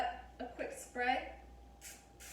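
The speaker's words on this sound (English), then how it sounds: "Let's just give that a quick spray." Cooking spray hisses onto tin foil in a home kitchen in a few short bursts, after a quieter stretch of clinking and movement.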